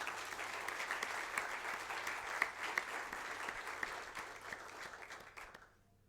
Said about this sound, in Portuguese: Uma salva de palmas para Tata Jeová.